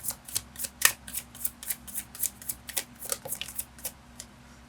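Tarot cards being shuffled and drawn during a reading: a quick run of crisp card flicks and slaps, about twenty distinct snaps over a steady low hum, close and fairly quiet, with no voices.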